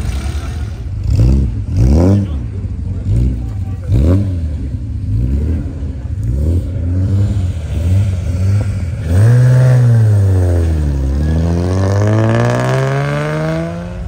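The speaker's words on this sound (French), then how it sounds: "et Christian arrivent sur le départ avec la Jaguar Type numéro 55 en régularité." A Jaguar sports car, number 55, at the start of a Tour Auto regularity stage, its engine revving in repeated sharp blips before a long, loud rising and falling run, close and dominant.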